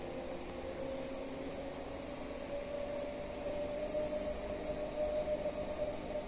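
A PMSM electric motor under closed-loop control runs up toward its maximum rated speed of 2000 RPM, giving a steady, moderately loud electric whine with a tone that climbs slowly.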